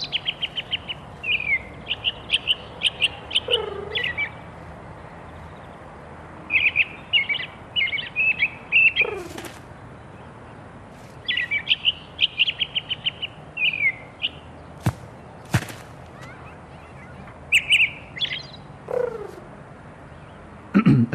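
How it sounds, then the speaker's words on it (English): Repeated bright bird chirps and short tweeting phrases come in bursts, close and clear, with brief pauses between groups over a steady low background hum. "And most important of all, chirping."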